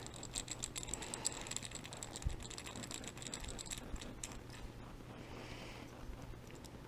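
Screws are backed out of a Traxxas X-Maxx steering servo with a small driver, making faint, quick ticking and clicking close by over a quiet background.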